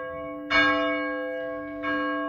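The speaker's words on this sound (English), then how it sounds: "one of the more tricky bells to ring" A church tower bell at All Saints Parish Church, Runcorn, strikes twice about a second and a half apart, each stroke ringing out with a rich, sustained hum that hangs between strikes.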